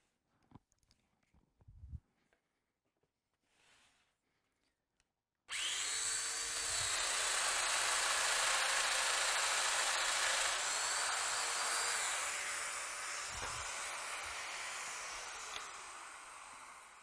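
A Festool router cuts a hole in a narrow wooden slat, starting suddenly after a few quiet handling knocks and then whining steadily and loudly close by until the end, its pitch shifting slightly as it works.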